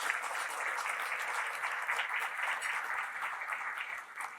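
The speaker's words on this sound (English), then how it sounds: "You started to clap" Audience clapping at a gala opening ceremony, a dense, even patter of many hands held at a constant level, moderately distant, running unbroken through the whole stretch with no talking.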